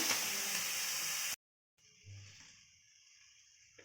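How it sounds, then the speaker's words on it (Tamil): Beetroot with salt sautés in a pan, a faint, steady sizzle that cuts out abruptly, then returns softer with a brief low clunk. "உப்பு போட்டாச்சு ஒரு அஞ்சு நிமிஷம் வதங்கப்படுது"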